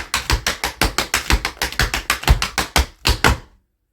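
Tap shoes strike a hard floor in a quick, even run of crisp shuffle steps, about fifteen sharp clacks in steady rhythm over three seconds, close and loud, then silence.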